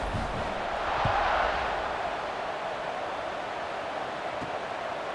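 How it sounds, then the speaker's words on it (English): Stadium crowd noise from the EA Sports College Football 26 video game, Fresno State vs. Kansas: a steady, broad roar of a large crowd that swells slightly near the start and then holds level throughout. "this crowd now ready to get behind them."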